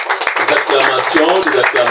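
At a university police officers' diploma ceremony, an audience breaks into loud, dense applause and cheering that fills the room, with some voices mixed in.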